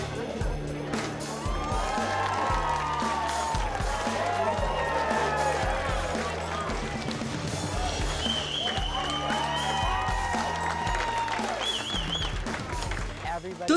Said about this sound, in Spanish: Todo el mundo aplaudía y fue una pasada.